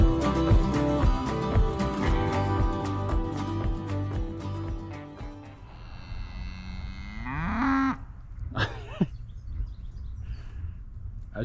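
Cows low with deep, drawn-out moos in the Dordogne valley countryside, heard after a stretch of music fades, with a few faint bird chirps around them.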